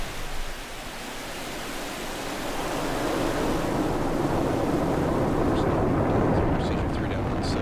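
The rocket on the Zuma mission lifts off with a broad, hissing roar that swells and then holds steady and loud, with faint voices briefly heard beneath it toward the end.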